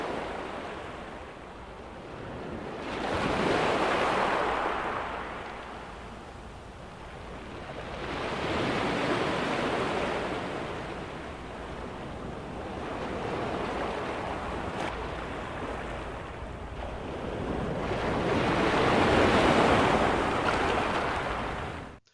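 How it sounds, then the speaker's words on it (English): Ocean waves roll in and break in slow swells, each surge building to a loud crash and receding into a softer wash, with three or four breakers heard over a steady background rush. "This is the sound of a wave."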